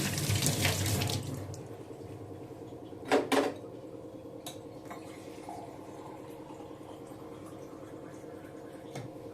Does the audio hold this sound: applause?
no